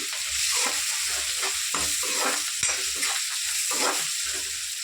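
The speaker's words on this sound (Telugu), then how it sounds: "నెక్స్ట్ ఒకసారి కలిపేద్దాం" Meal maker Manchurian with garam masala and other spices is stirred in a hot frying pan, giving a loud, continuous sizzle broken by repeated scraping strokes of the spoon close by.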